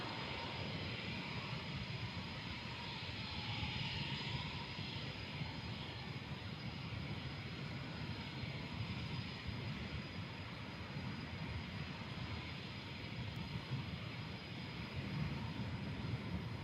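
Embraer KC-390 Millennium military transport aircraft flying at the Farnborough airshow, a steady broadband engine roar that holds constant and fairly loud for the whole stretch, with no voices.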